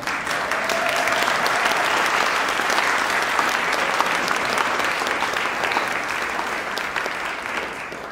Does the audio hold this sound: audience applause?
yes